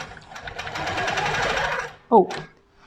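A longarm quilting machine fitted with a ruler foot stitches slowly as a rhythmic mechanical whirring and tapping for about two seconds, then stops; a brief voice follows.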